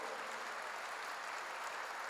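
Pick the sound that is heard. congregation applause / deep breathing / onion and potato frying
congregation applause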